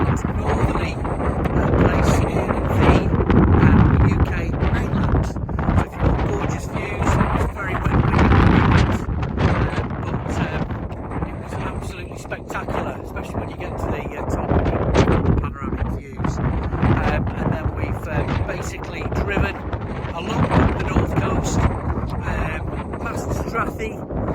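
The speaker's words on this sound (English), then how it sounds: "It's a little bit windy." Strong wind buffets the microphone on the far north coast of Scotland, a continuous loud rumble with gusts rising and falling throughout.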